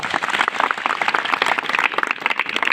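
Students in a school hall clapping for themselves, dense steady applause from many hands filling the whole stretch without pause.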